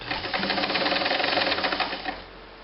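A Kenmore 158.510 sewing machine runs steadily at full speed, its foot pedal stuck on or off, a dense rapid mechanical clatter close to the mic that eases slightly near the end.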